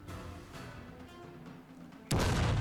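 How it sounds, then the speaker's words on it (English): Artillery cannon fire in a Shogun 2 multiplayer battle: a sudden loud, broad boom erupts near the end after a stretch of quieter battlefield noise, continuing as a heavy sustained roar. "He is firing at James the Great, though, with his artillery."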